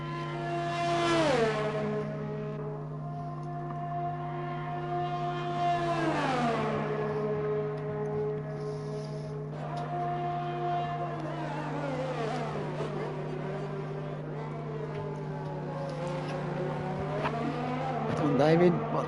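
Race cars lapping a French circuit in an online sim racing league race, engines rising and falling through repeated upshifts and downshifts, loud and continuous with a steady underlying hum and a tire squeal at the end.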